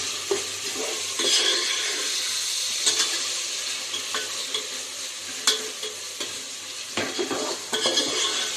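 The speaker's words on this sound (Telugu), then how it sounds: "వీటిని కూడా దోరగా వేపుకోవాలి." Chopped tomatoes fry in a pan for Nellore-style fish curry, a steady close sizzle broken by scattered scrapes and knocks of a stirring spoon.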